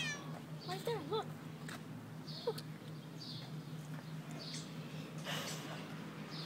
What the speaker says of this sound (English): That cat is hungry.